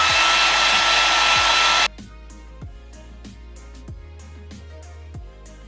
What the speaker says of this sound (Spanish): Siempre lo hago solo con el secador